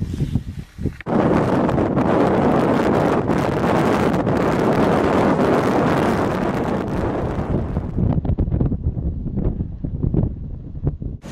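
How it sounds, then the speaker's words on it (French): Strong wind batters a high mountain camp on Aconcagua, a loud steady roar buffeting the microphone for most of the time before easing into gusty rumbles. "Nous sommes bloqués par le vent."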